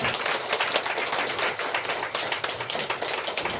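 A congregation claps for the True Parents at a church gathering, a dense, steady patter of many hands sustained throughout.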